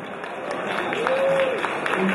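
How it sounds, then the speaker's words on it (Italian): A banquet audience at a club members' dinner claps steadily and evenly for about two seconds, a dense wash of applause with a faint voice underneath. "A round of applause, ladies and gentlemen, for Paul Maini, Chartered Accountant, Fazio"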